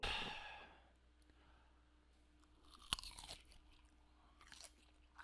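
Quiet crunching and chewing of food at close range, with breathy sighs and a sharp bite-like click near the middle against a faint background hum.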